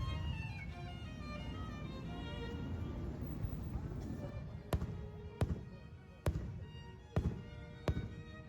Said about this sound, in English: Lovely fireworks show at night.